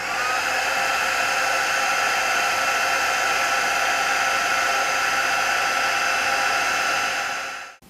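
A heat tool blasts a steady, loud airy roar while melting embossing powder on a card for triple embossing, running continuously and alone before cutting off abruptly at the end.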